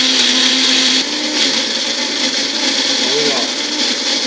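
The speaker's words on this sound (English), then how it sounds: "now it goes into the silver bullet" A Silver Bullet blender purees raw vegetables for Texas chili with a loud, continuous high whirring drone. The motor note shifts slightly partway through, and a brief voice sounds faintly beneath it.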